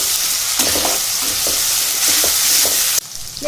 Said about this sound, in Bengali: এবার আমি ওর মধ্যে এক চামচ আদা রসুনের পেস্ট দিয়ে দিলাম দিয়ে এবার ভালো করে নাড়তে থাকবো